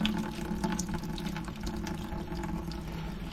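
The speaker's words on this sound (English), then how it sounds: "I'm going to rinse off the table." Water running from a tap or hose to rinse off a fish-cleaning table after a cobia catch, a steady close splashing flow with no talk.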